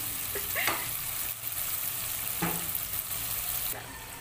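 Peas stir-frying in a pan for samosa filling give a steady, loud, close hiss of sizzling oil, broken by a few brief stirring scrapes, with no voices.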